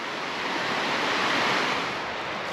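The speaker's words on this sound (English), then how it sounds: "Beautiful creek." Steady broadband rush of a creek flowing beside a steep section of the Deep Gap Branch hiking trail, a constant close wash of water with no voices.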